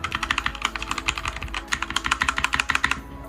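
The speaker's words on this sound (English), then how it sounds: "Here's the keyboard and mouse." Rapid typing on a computer keyboard in a gaming setup, a steady run of close, crisp key clicks in uneven bursts, heard alone for a few seconds.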